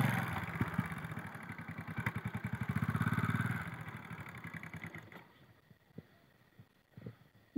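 A motorcycle engine thrums close by during bike training, its rapid pulsing beat swelling louder for a few seconds and then dropping to a quieter, uneven idle with scattered knocks.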